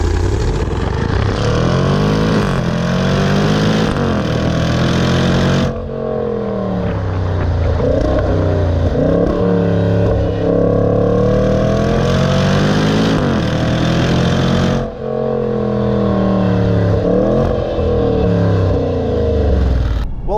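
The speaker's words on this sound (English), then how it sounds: "Whilst that V8 thunders and the supercharger whines" A 5-litre supercharged V8 in a 2019 Jaguar F-Pace SVR SUV revs hard and loud, with rising and falling engine sweeps and brief drops between pulls, no talking over it.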